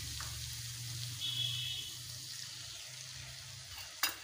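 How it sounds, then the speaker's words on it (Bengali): Spices with Kashmiri chili powder and a little water are stir-fried in a pan, a faint soft sizzle with light scraping and a sharp clink near the end. "মশলাকে ভালোভাবে কষে নেব।"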